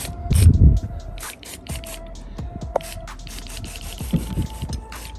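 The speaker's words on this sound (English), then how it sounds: "Now I'm going to go ahead and clean this." Waterless wash cleaner hisses from a spray bottle onto a dirty car tire, with a heavy burst at the start followed by lighter clicks and short squirts, close and steady, with no speech.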